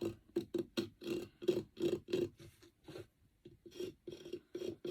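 Wax being rubbed off the raised edges and details of a picture frame, giving a series of short, close rasping strokes in an uneven rhythm with a brief pause midway.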